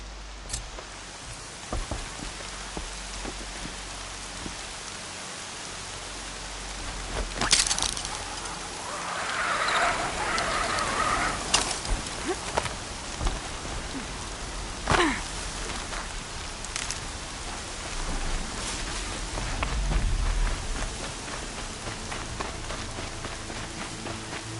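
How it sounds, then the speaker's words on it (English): Rain falls steadily in the video game Horizon Zero Dawn, a continuous wash of drops with scattered sharper cracks and impacts layered on top, and no one speaking. "Here comes the rain."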